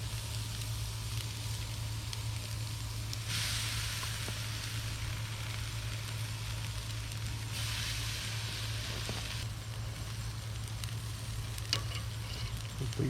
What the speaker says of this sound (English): Always love to hear that sizzle.